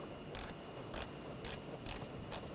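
A ratchet with an 8mm socket loosens a worm clamp on a hose in a 2013-2019 Ford Escape engine bay, giving a handful of quick, close clicking bursts at a steady rhythm.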